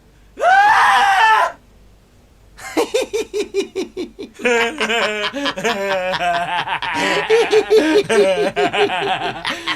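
A sharp, loud scream bursts out alone, then after a pause comes a stretch of chuckling and snickering laughter.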